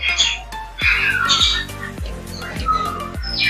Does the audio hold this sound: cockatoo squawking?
yes